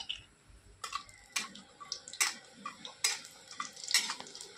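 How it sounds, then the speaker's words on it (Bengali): Almonds frying in ghee in a kadai give off sharp, irregular crackles and sizzle bursts, with louder pops recurring about every second and no talk. "তো প্রথমে আমি কাঠবাদামগুলো একটু ভেজে নেবো।"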